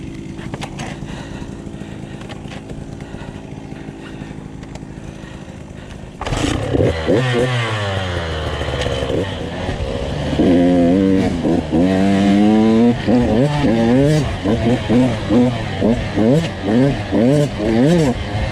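A Husqvarna TC 85 dirt bike engine runs with a poor jetting setup, idling at first and then revving repeatedly in loud rising and falling buzzy surges up close.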